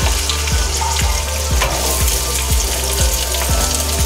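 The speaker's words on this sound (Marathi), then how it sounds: "हा कांदा जरा चांगला भाजायचा." Onion with chillies frying steadily in a pan for kanda poha, a loud, continuous sizzle with regular stirring scrapes at about twice a second.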